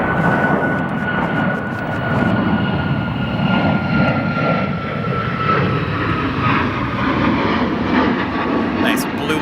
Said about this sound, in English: We have a 737 MAX American Airlines flight 1244 to San Diego departing currently.